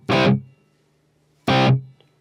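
An electric guitar run through a Sonicake Smartbox on its Brit amp model with delay, playing two short distorted chord stabs about a second apart, each cut off sharply with a faint tail, loud and close with no talk.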